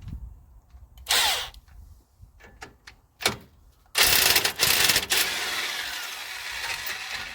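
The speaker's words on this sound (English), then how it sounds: "I'm not sure if my electric impact will do it." Electric impact wrench working on a castle nut on a pickup truck during alignment work, with several sharp bursts of loud hammering followed by sustained rattling runs, close by and with no talk.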